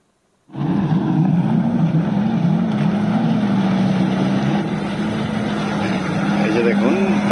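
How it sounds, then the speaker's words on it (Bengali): Speedboats run on the water at Al Mamzar Corniche in Sharjah, giving a steady motor drone that starts abruptly and holds with a wavering pitch, fairly close and loud, with voices talking over it. "এই যে দেখুন, তারা কিন্তু আজকে এখানে স্পিড বোট চালাতেছে।"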